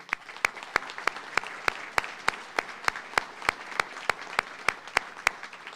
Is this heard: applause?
yes